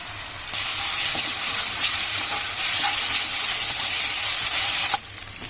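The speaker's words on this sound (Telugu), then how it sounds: "ఉల్లిపాయ పచ్చిమిరపకాయ వేసాము చూడండి ఈ విధంగా వే వేగిన తర్వాత ఇందులో అల్లం వెల్లుల్లి పేస్ట్ వేస్తున్నాను" Chopped onion, green chili and ginger-garlic paste fry in hot oil for a capsicum and green gram curry, giving a loud, steady sizzle and hiss that swells for several seconds with no talking.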